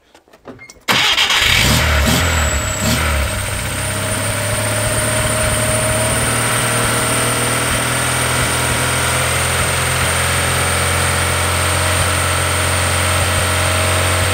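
A 1981 Škoda 120L engine with noisy piston pins cranks and starts, then settles into a steady idle with a faint rattling, ticking clatter beneath the drone.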